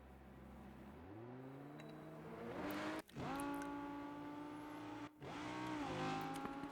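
Race car engine from the RENNSPORT racing game at Daytona, revving up from low through rising gear pulls with two sharp upshift breaks, loud and steady close to the listener, alone with no talk.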